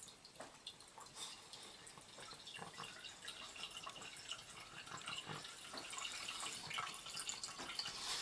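Beer pours from the tap of a Lord's Brewing minikeg into a glass. A steady liquid trickle with faint splashy hiss runs throughout and grows slightly fuller toward the end, with no talk.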